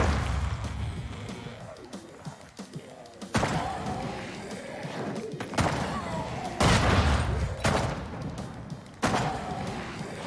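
Grenades going off in Zombieland: Double Tap, a series of heavy booming blasts and thuds arriving in bursts over several seconds, loud and close, with game action rumbling between them.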